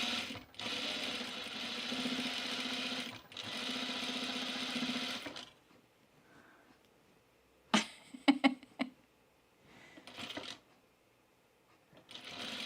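A serger sewing machine runs in two long, steady bursts of whirring stitching, followed by quieter clicks, handling noises and short mechanical bursts as fabric is worked for pajamas and sport shorts.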